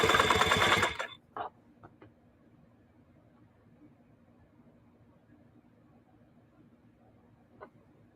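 A sewing machine stitches through fat seams on old jeans being upcycled into a hobo bag, a loud, fast, dense whir lasting about a second before it stops, leaving a quiet room with a few faint clicks.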